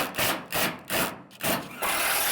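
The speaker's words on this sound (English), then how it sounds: "Pre-drilling's going good." A drill bores pilot holes into wood during the building of an off-grid workshop, with four loud, rhythmic grinding bursts close by.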